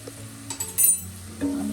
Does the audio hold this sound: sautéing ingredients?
yes